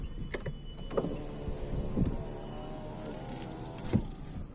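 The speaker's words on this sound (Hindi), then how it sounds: "और यहाँ पर भाई देखो हमने शीशे बंद कर लिए" Power windows on a Hyundai car whirring shut inside the cabin with the engine idling, a steady motor hum with a few clicks and thumps as the glass seats.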